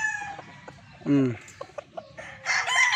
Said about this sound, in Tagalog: Napakapuging manok.